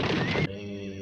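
Nervous horses in the 1957 western film Forty Guns give a loud, short whinny that cuts off abruptly, leaving a low ringing hum.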